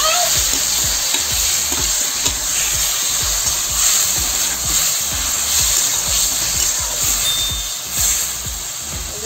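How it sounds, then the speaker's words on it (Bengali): Prawns fry in hot oil seasoned with salt and turmeric, giving a steady, dense sizzle that crackles and pops close by throughout, with no voices. "চিংড়ি মাছ কটা আমার ভাজা হয়ে গেছে"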